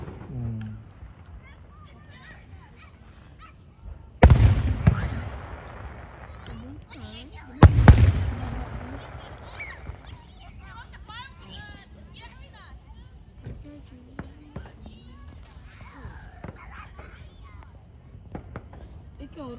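Fireworks display with two loud sharp bursts a few seconds apart, followed by crackling pops and scattered smaller reports, with people chatting nearby throughout.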